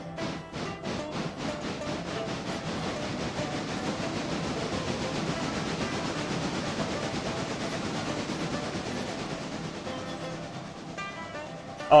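A steam locomotive runs on rails in a railway video game, with rhythmic chuffing at the start that settles into a continuous rolling rumble and clatter, loud and steady throughout.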